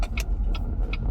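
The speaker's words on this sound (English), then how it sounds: "I'm just pulling a street maneuver here in my car. 3-point turn." A car in a three-point turn on a street gives a steady close engine and road rumble, broken by three brief higher whooshing swells at regular intervals.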